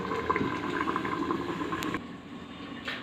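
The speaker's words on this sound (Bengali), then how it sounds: "মশলা দিয়ে আমি 5 মিনিট ফুটিয়ে নিয়েছি।" Crab curry with cumin and coriander paste bubbles in a covered pot, a close, steady low burble and sizzle that drops away partway through as the lid is lifted.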